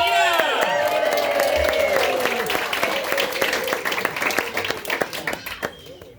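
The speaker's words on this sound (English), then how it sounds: "Enthusiastic cheer." A crowd at a celebration of life cheers and applauds for Tina, dense clapping with whoops that slowly thins out toward the end.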